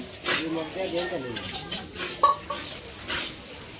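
Charchari vegetables cooking in a pan for a village Durga Puja offering, with clinks and scrapes of a spoon stirring against metal, a soft sizzle underneath and voices talking nearby.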